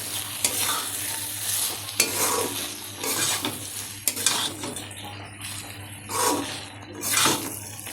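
Chickpea ghugni with chicken curry masala being stirred in a pan, the spoon scraping and clinking in irregular strokes over a soft sizzle, close and fairly quiet, with no talk.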